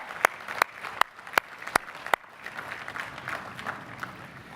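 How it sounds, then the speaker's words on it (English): Audience applause at the Emory University 2012 commencement ceremony: a handful of sharp, loud claps ring out close by at the start, then a softer, diffuse crowd clapping spreads out and continues. "I should applaud you."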